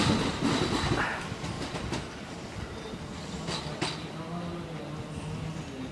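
A Kintetsu train pulls out at Saidaiji station, its wheels and motors rumbling steadily close by, with a few faint wheel squeals and clicks over the track.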